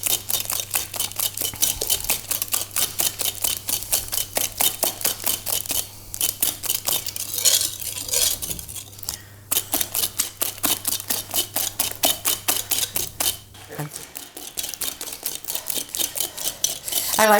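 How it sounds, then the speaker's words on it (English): A sturdy whisk beats eggs and sugar into a thick, sugary pound-cake batter, giving a fast, steady run of sharp metallic ticks against the bowl, close and loud, with brief pauses and a low steady hum underneath. "I like to use a really sturdy whisk with this because this is quite a thick, sugary mess"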